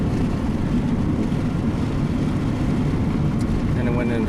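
Honda car cruising in fourth gear after a smooth upshift, a steady low engine and road drone inside the cabin, constant and fairly loud, with someone talking over it.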